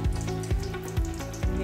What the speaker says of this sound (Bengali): মাছের তেলের বড়া করছি। এই অনেকটা হয়েছে, অনেকটা ভাজছি